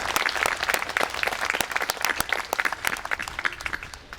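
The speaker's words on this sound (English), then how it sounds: "Let's give them a round of applause for putting things together." A crowd at a Memorial Day parade and ceremony in Palmer claps steadily for several seconds, a dense outdoor patter that stays fairly even before thinning slightly.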